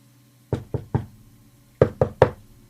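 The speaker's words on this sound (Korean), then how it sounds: "성 앞에 이르러 잭은 잠시 망설이다가 문을 두드렸어요." Two groups of three firm knocks land on a large castle door, separated by a short pause, crisp and close against a quiet background.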